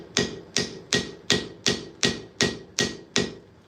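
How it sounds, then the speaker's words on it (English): A hammer taps soft brass pins, nine gentle, evenly spaced strikes with ringing metallic tails, close and clear with nothing else heard. "brass is soft, so gentle taps"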